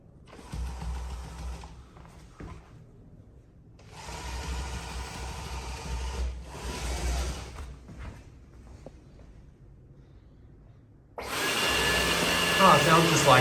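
A Dyson 360 Vis Nav robot vacuum hums in bursts of motor whir with quiet gaps between, then switches to boost mode and rises into a loud, steady, high-pitched roar near the end.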